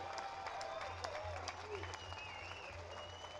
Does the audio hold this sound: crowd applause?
yes